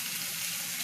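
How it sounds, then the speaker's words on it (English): Vegetables wilting in a skillet give off a steady, soft sizzle for a brief moment, with no voices. "I'm going to allow them to wilt on the skillet like so."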